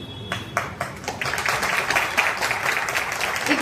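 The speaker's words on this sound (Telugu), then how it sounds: "మీరందరూ ఎంత చప్పట్లు వాయించి వాళ్ళని చీర్ చేస్తే వాళ్ళు అంత ఆనందంగా చేస్తారు." An audience applauds child Kuchipudi dancers, starting with a few separate claps that swell into dense, steady applause lasting to the end.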